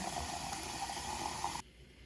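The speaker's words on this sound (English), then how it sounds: "So the first thing I'm going to do is go ahead and fill it up with water." Tap water runs steadily into a coffee pot in a kitchen, a close, even rushing stream that cuts off abruptly near the end, leaving a quiet room tone.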